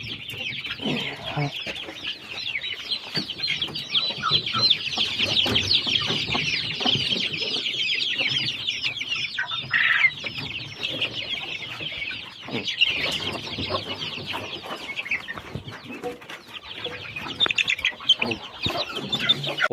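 Broody hens and a rooster cluck continuously in a farmyard, with dense overlapping calls and occasional chirps, close and fairly loud throughout.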